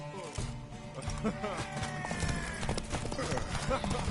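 Rhythmic clip-clop of horse hooves trotting close by, with a voice talking over the steady hoofbeats, in the video game The Witcher 3: The Wild Hunt.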